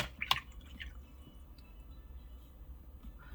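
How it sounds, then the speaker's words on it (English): Watercolor paintbrush swished and rinsed in a water jar during pan watercolor painting, giving a brief close splash and drip near the start, then quiet trickles and room hiss. "just rinsing off my brush"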